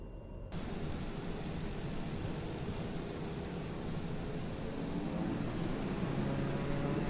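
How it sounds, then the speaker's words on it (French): A Daher TBM 930 turboprop airplane takes off from runway 34, a steady, loud broadband engine roar that holds and builds gradually through the whole stretch after a brief quiet start, with no talk over it. "Nous informons la tour de contrôle de notre intention de décoller de la piste 34 en direction du nord."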